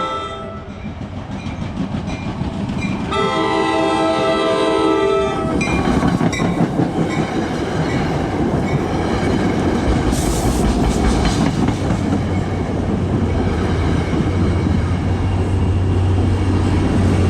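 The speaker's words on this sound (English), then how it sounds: "Here comes the train." A loud train horn blasts for a couple of seconds as a train roars past nearby through a New Jersey station with a crossing gate, its rumbling and rhythmic clatter of wheels continuing steadily.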